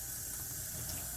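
Water runs steadily from a tap while freshly foraged mullein leaves are washed, a continuous close hissing flow with no talking.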